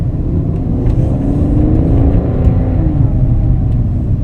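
A BMW with an SMG II automated manual transmission accelerates, its engine droning steadily with a slow gear change, the rumble loud and close from inside the car.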